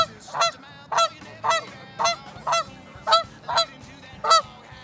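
A goose honks close up outdoors near a barn, eight loud, evenly spaced honks in a steady rhythm with quiet gaps between them.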